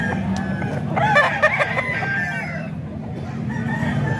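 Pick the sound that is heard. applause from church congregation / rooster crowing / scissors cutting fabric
rooster crowing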